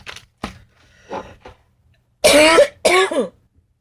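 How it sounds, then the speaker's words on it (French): A person coughs and clears their throat nearby: a few soft, short rasps first, then two loud, harsh hacking bursts close together near the end, with quiet pauses in between. "J'ai une toux, c'est désagréable."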